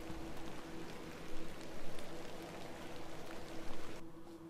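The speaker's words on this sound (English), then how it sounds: "A little rain is no bother." Steady rain falls in the video game The Excavation of Hob's Barrow, a soft continuous patter of drops with no talking, fading slightly at the end.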